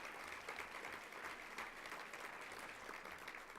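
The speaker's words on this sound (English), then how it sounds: "Let's give him a round of applause." An audience at a ReelAbilities film program event gives steady, dense applause, soft and from the room at large, with no talking over it.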